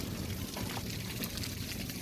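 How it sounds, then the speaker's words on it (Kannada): Water from Thonnur lake flowing downstream as the Ramanuja Ganga, a steady close rushing and pouring wash filling the whole moment without voices. "ತೊಣ್ಣೂರು ಕೆರೆಯಿಂದ ಏನು ರಾಮಾನುಜ ಗಂಗೆ ಆಗಿ ಹರಿದು ಕೆಳಗಡೆ ಬರುತ್ತೆ"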